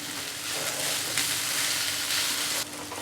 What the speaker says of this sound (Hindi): चलाते हुए 1 से 2 मिनट फ्राई करेंगे हाई फ्लेम पर